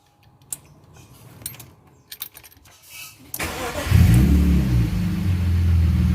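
A BMW E36 engine cranks over via a starter button and relay, with a few clicks and brief mechanical noises before the engine catches and settles into a loud, steady idle, close by with no talking.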